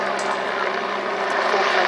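A Royal Navy helicopter, built to operate from navy ships, flying at the Midland Air Festival 2018 air display: a steady, even engine and rotor drone that holds at the same level throughout with no breaks.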